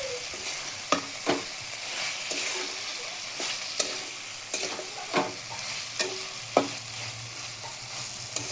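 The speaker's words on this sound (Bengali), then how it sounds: "এই সময়তে এবার আমি আমার এই যে পটলগুলো রেখেছিলাম, পটলগুলো আমি দিয়ে একটু কিছুক্ষণ একটু নেড়ে চেড়ে নেব।" Pointed gourds (potol) stirred in sizzling spice paste in a pan, a steady fry hiss broken by a dozen or so sharp spatula scrapes and knocks at an uneven pace, close and fairly loud with no talking.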